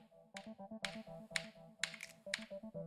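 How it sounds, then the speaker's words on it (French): Finger snaps keep a rhythm in the video game It Takes Two: sharp, crisp clicks at a steady beat over a soft tonal game melody, quiet overall, with no voices. "Le saut, c'est sur les claquements de doigts."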